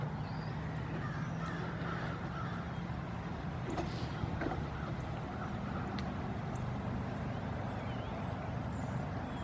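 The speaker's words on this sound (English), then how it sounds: "Birds everywhere." Crows cawing on a golf course in the early morning, a few scattered calls rising faintly over steady low traffic rumble and wind noise from a distant road.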